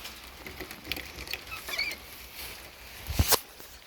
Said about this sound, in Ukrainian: Кролики їдять сіно.